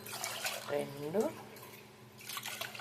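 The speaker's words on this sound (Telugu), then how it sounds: "3 గ్లాసులు నీళ్ళు పోస్తున్నాను." Water is poured from a glass into a pressure cooker holding washed rice and toor dal, making a short gurgle that rises in pitch as the pot fills. Someone talks around it.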